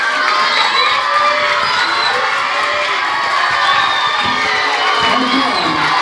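Students in a crowd cheer and shout loudly with high, excited voices, keeping up a dense, steady din for the whole stretch, with some clapping mixed in.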